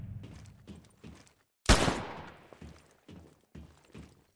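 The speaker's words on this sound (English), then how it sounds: "Use your smart pistol to neutralize the target." A single loud smart pistol shot in Titanfall player training, one sharp close report amid soft footsteps and movement.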